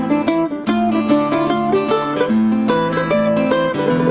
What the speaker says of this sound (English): He's rocking that mandolin.